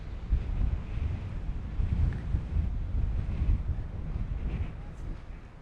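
Strong wind gusts of about 20 to 25 buffet the microphone in a steady low roar at a Nevada ghost town, surging and easing throughout, with no voices.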